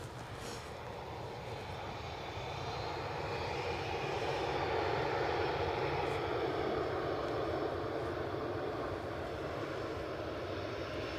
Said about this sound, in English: 15 years of age this aircraft